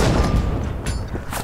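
Dense, continuous gunfire and booming blasts from the video game Red Orchestra 2 multiplayer, loud and chaotic throughout with no clear pauses.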